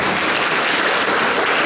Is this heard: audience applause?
yes